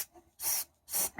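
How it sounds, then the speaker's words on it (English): A can of white lithium grease gives two short, sharp hissing sprays close by, each lasting about a quarter second with a brief pause between them. "I want to put some white lithium grease so we don't have any problems with this"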